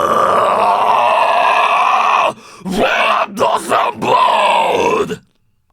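A loud, close harsh vocal growl held for a couple of seconds, then broken into several shorter gritty screamed bursts before cutting off to silence.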